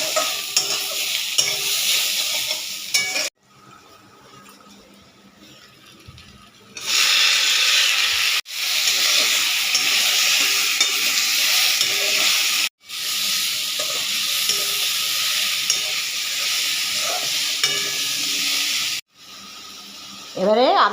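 Onion and potato fry in a pan, a loud continuous sizzle with a spatula stirring and scraping through it, cutting out briefly a few times before resuming; a voice speaks faintly underneath.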